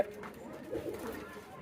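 A pigeon settled on its nest coos softly in a few low, throaty pulses, faint and close, with a person talking quietly alongside.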